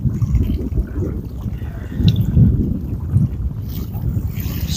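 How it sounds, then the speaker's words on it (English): Steady wind buffets a small fishing boat on a trout lake, a low continuous rumble of wind noise on the microphone with occasional gusts swelling, no talking. "So windy all day long."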